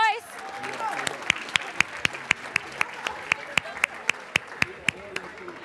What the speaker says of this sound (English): Let's give a round of applause to LaRoyce.